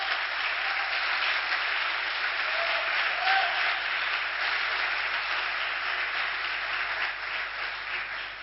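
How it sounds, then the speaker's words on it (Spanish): A church congregation applauds during a sermon, a long, steady wash of dense clapping at moderate level that slowly tapers toward the end. "un aplauso"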